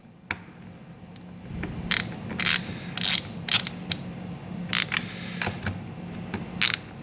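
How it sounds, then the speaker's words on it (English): Rapid clicking bursts of a hand ratchet tighten the bolts on a Nissan Sentra side mirror, the sharp pawl clicks coming in short uneven runs close by. "And then you're going to tighten her down."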